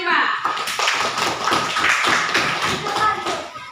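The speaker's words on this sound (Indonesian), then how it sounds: "tepuk tangan untuk kelompok 5." Classroom clapping in a sixth-grade Indonesian class for a student group, dense hand claps mixed with children's chatter and voices throughout, fairly loud and close.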